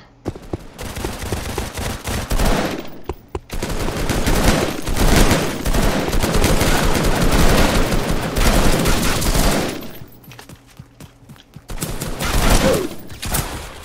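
Automatic Glock pistol fire in a video game, with dense bursts of rapid shots running for most of the stretch, broken by brief pauses and resuming near the end, loud and close, with no talking.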